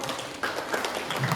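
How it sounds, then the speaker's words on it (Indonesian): An audience claps together in a counted clap pattern at a parenting talk, a steady wash of many hands clapping at moderate volume without a clear pause. "tepuk tangan untuk kita semua"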